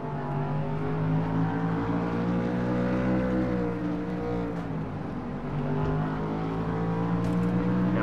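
Racing truck engines roar in a simulated truck series race at Flemington in a video game, a steady loud drone of several engines holding speed together with no talk over it.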